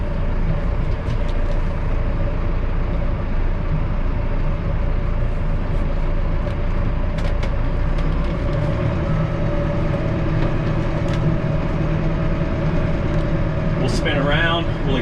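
A Sveaverken F100 tractor drives steadily on auto steer at about 6 miles an hour, following a contour around trees; its loud engine drones evenly throughout, with a brief clank near the end.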